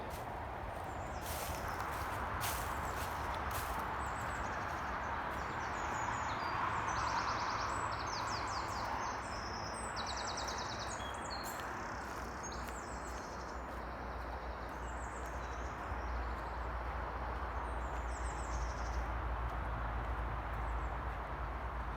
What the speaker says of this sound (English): I can hear the birds